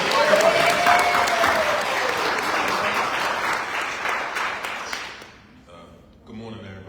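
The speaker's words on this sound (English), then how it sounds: "give this brother a round of applause." A church congregation gives a firefighter a round of applause: loud, dense clapping with some voices mixed in, fading out after about five seconds before talking resumes.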